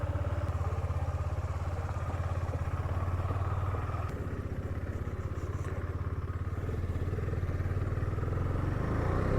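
A KTM Duke 250 second-generation motorcycle idles to warm up, its single-cylinder engine thumping in a steady, close, loud rhythm with faint mechanical clatter.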